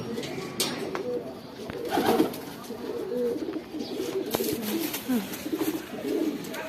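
Female pigeons in a loft cooing repeatedly, low rolling coos close by over a faint background hum, continuing throughout.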